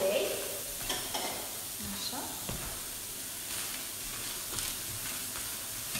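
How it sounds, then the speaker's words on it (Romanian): Red onions sauté without any oil in a Salad Master pan, giving a soft steady sizzle with occasional stirring scrapes and clinks, heard close up while the background stays fairly quiet. "Vedeți cum putem căli ceapă fără un singur strop de ulei."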